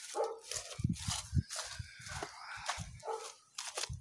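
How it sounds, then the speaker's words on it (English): A backyard dog barks in a string of sharp, close barks with short gaps between them, mixed with brief yips and whines, and no voices over it. "Now I got him barking."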